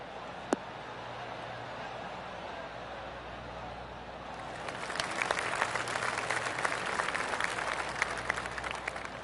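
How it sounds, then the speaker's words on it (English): Golf crowd applause in the video game PGA TOUR 2K21 rises midway, a soft spread of clapping at some distance, following a quiet stretch and a single sharp tap of a shot from a fairway bunker. "Oh, golf clap."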